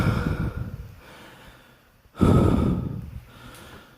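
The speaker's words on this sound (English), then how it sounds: "sorry for breathing heavily" Heavy breathing sounds close to the microphone: slow, audible exhales and inhales with a sharp, loud gasp midway, and no words spoken.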